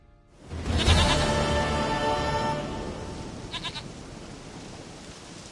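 A goat bleats in The Witcher 3, a single loud, wavering bleat rising near the start and trailing off, followed by a brief fainter call and quiet game ambience, with no talk.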